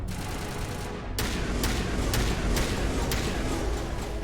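Weapon fire in the video game Mass Effect Legendary Edition: a run of about five sharp, loud shots at irregular intervals over a continuous noisy game background.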